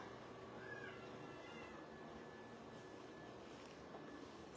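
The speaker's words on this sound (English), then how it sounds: "The cat you're seeing here is Mutt" A domestic cat gives a brief, faint meow early on, barely rising above a steady hiss of room noise, with the rest left to quiet background hum.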